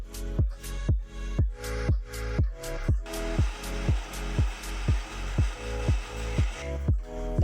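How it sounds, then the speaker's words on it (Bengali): An electric grinder whirs as it blends soaked lentils (dal) into a paste, its motor pulsing in a steady rhythm of close, loud surges with no voices. "ডালটাকে এবার আমি বেটে নেব।"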